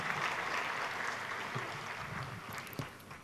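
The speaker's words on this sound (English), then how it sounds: "Please applaud for their generosity." Audience applause for sponsors at a stage event, a dense, steady wash of many hands clapping that holds for several seconds with no clear breaks.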